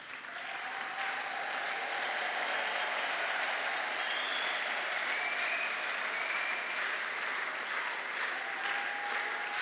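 Continuous audience applause at a ring ceremony for many couples, an even, dense spread of clapping from a large crowd, fairly distant and steady throughout.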